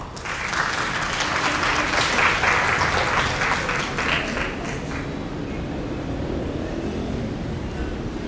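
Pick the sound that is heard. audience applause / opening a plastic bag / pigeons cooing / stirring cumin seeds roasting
audience applause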